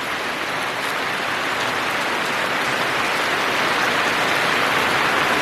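Heavy unseasonal rain pours down in the Konkan, a loud, unbroken roaring patter of drops on surfaces that stays strong and uniform throughout.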